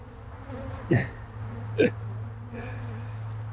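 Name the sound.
agitated honey bees in an opened hive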